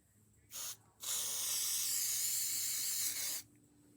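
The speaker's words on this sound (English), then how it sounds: "Oh, this is like the bad hairspray." Hairspray hisses from a can onto a wax-covered squishy toy: a short spurt, then a longer steady spray of about two and a half seconds, close and clear in a quiet room.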